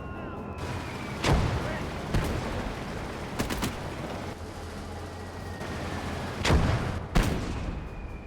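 Booming 81mm mortar shots ring out in a WWII-style war game, several sharp reports spaced irregularly over a rumbling battlefield background of distant gunfire, with no one speaking.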